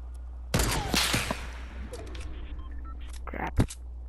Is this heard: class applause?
no